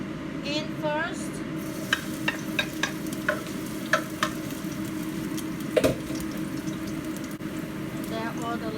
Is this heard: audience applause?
no